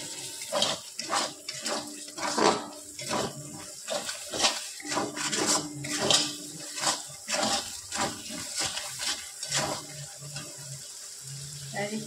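Water pours in repeated short splashes into a pan of jackfruit and prawn curry, with faint clinks of utensils between the pours.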